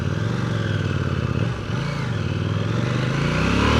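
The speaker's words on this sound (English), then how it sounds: "We have successfully upshifted, and yet the bike decided to go down into neutral." A KTM 790 Duke engine runs loud and close with a steady, rough drone, dipping briefly in the middle before building back up, with no talk over it.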